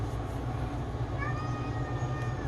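A pet cat gives a faint meow indoors, a short rising cry over a steady low background hum.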